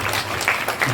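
A crowd claps at a Khel Rangala Paithani program in a brief, dense burst of applause that lasts under a second and sounds fairly close.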